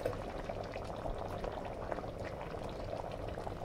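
A pot of Bhimavaram-style fish curry with tamarind broth bubbles at a steady boil, a continuous close simmering hiss and gurgle with no voices.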